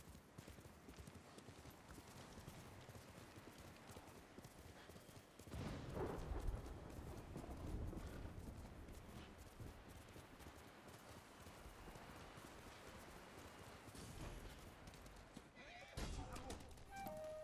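Steady clip-clop of horse hooves galloping in the video game Ghost of Tsushima, continuous and fairly loud, with scattered game sounds and shouting voices over it.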